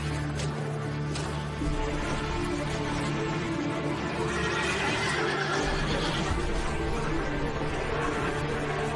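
Horses neigh and whinny in distress amid a busy, loud scene, several agitated calls rising over a constant rumbling background with faint hoof sounds, no talk.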